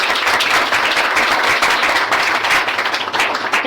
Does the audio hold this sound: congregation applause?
yes